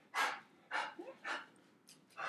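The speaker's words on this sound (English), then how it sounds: "there's the dog." A dog barks five times at a moderate distance in a fairly quiet room, sharp separate woofs spaced about half a second apart.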